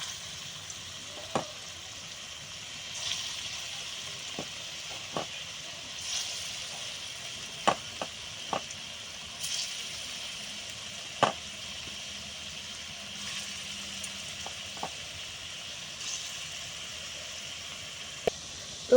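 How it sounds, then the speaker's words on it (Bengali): Small lentil fritters (dal bora) frying in hot oil over a lowered gas flame, a soft continuous sizzle with scattered sharp pops and crackles, close by and with no voices. "এবার আমি ছোট ছোট করে না ডালের বড়াগুলো দিয়ে দেবো"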